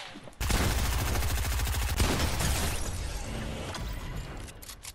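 Gunfire in the video game Fortnite: a sudden, loud burst of rapid automatic shots that rattles on steadily, then thins into scattered, fainter shots.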